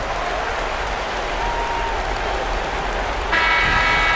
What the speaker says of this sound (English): Once again, a big round of applause for your Shake